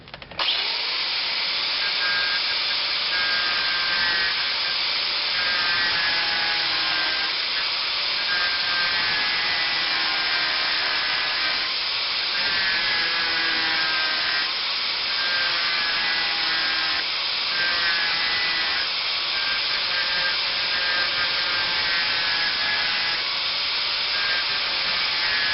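A 4.5-inch angle grinder cuts through a rusted muffler clamp under a 2000 Dodge Grand Caravan, giving a loud, continuous high-pitched grinding whine with slight rising and falling pitch as the disc bites, unbroken throughout with no talking.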